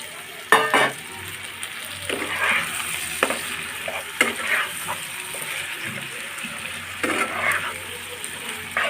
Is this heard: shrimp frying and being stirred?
yes